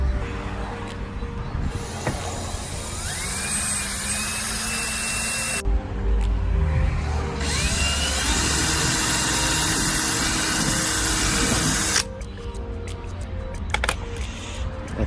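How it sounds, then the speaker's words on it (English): A power drill bores holes in the car bumper of an Infiniti G35. The loud, sustained whine runs in long stretches broken by brief pauses. "now you start drilling."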